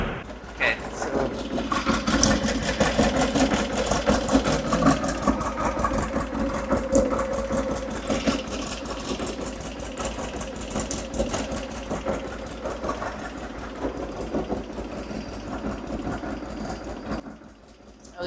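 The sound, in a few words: car engine idling with Weber IDF carburetors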